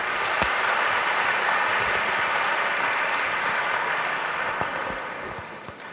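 An audience at a science and philosophy festival event applauds, a full, even sound of many people clapping that holds steady before gradually fading toward the end.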